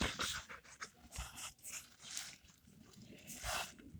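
A dog pants in quick, breathy bursts close by, with no talking over it.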